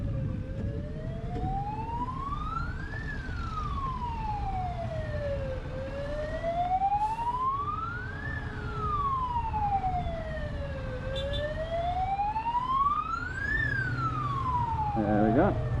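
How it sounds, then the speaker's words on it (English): An ambulance siren wails through traffic, its tone rising and falling in slow, regular sweeps. It sounds at a steady, moderate distance over a low rumble of road noise from inside a moving vehicle. "There's an ambulance."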